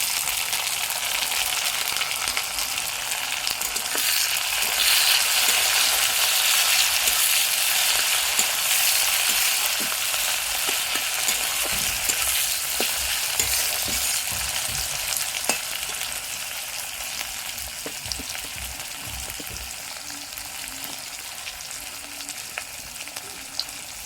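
Tomatoes frying in a pan with onions already fried deep red, in plenty of oil, for an egg curry: a steady, broad sizzle with scattered stirring scrapes and clinks that softens slightly toward the end.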